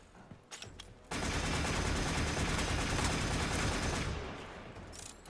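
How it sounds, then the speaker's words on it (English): Weapons firing in Warframe pour out as a dense, continuous barrage of rapid shots lasting about three seconds, loud and close, then easing off into quieter game noise. "You can just kind of stand there and shoot everything."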